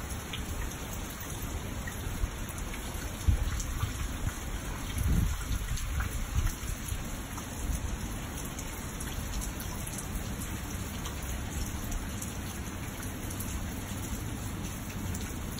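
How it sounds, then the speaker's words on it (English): Steady rain falls outdoors, a dense continuous patter on surfaces with a brief low rumble of thunder, fairly loud and unbroken throughout. "Here comes the rain."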